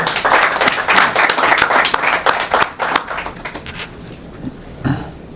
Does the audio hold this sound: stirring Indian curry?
no